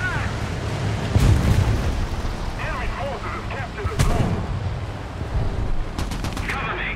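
Heavy cannon fire from a Tiger H1 tank in the War Thunder video game, with loud booming blasts near 1 s, 4 s and 6 s over a rumbling engine bed, and faint voices mixed in.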